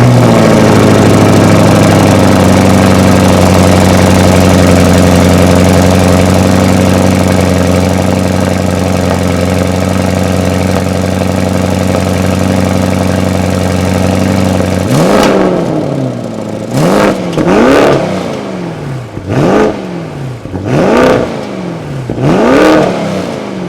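A 2020 Porsche Cayenne Coupe Turbo with adaptive exhaust fires up from cold, settling into a loud, steady high idle before a run of sharp, repeated revs rising and falling near the mic, with no talking.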